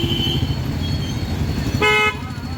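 In a rainy street traffic jam, a car horn gives a short toot early on and then a louder, sustained honk near the end, over a steady low traffic rumble.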